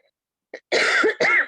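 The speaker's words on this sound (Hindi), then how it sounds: "सॉरी, मेरी अभी तक खांसी गई नहीं है।" A quick catch of breath followed by two harsh, close coughs in rapid succession.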